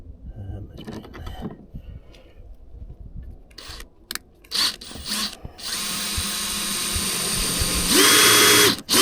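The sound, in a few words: magnetic drill drilling rusty metal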